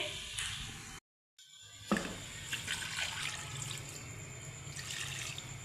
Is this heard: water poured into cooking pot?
yes